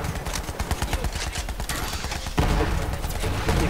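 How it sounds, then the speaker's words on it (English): A shock sniper rifle being fired in the Borderlands 3 game, heard with a dense run of rapid gunfire cracks and bursts and a heavier surge partway through, loud and close, with faint voices mixed in. "So I'm gonna test my sniper weapon."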